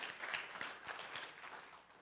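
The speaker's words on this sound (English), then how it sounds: "Let's give them another round of applause." Church congregation applauding after a dance performance, a steady wash of many hands clapping at moderate, slightly distant volume with no talk.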